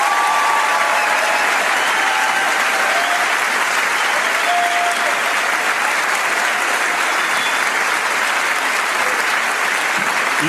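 A comedy show audience in a hall claps for a hero present in the room, loud, sustained applause that stays full and continuous for over ten seconds, with a few faint cheers and voices inside it.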